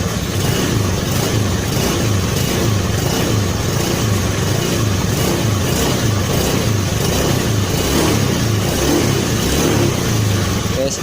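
A Honda Beat scooter engine with a carburetor vacuum rubber problem revving as the throttle is pulled, a steady close mid-pitched buzz sustained throughout with a person talking over it.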